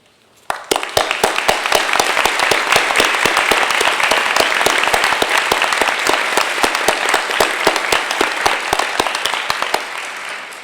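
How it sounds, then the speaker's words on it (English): Audience at an academic and leadership awards convocation applauds scholarship students, many hands clapping in a dense, steady burst that starts abruptly and holds loud for about ten seconds. "Will each of you please stand so we can give you a big round of applause?"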